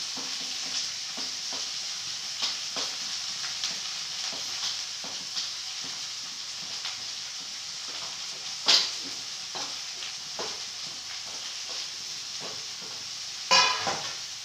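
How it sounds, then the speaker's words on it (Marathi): Fenugreek leaves and dal frying in a hot oil tempering give a steady sizzle throughout, with occasional stirring clicks and two sharper spatter bursts near the middle and the end. "आता मेथी जराशी खरपूस भाजून घ्यायची आहे."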